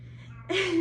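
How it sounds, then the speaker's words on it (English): A single short cat meow, fairly faint, rises briefly over a low background hum. "Sorry, that's my cat."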